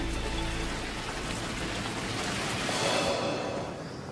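Hail pelting down during a thunderstorm at Malua Bay on the Australian coast, a dense, steady hiss of countless impacts, loud and close, with no voices.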